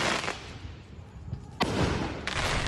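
Illegal fireworks going off across Southern California at night, with loud broadband blasts and crackling bursts that start and end the stretch, a quieter rumbling patch between them.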